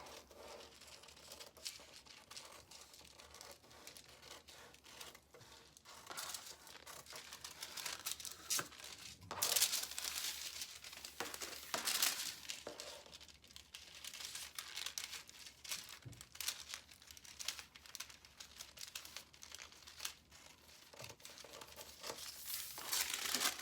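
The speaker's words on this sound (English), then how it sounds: "cut off the excess paper" Excess pattern paper from a strapless foundation torso block is cut and crinkled, steady close rustling and crumpling with sharper tearing bursts, quiet and alone with no talk.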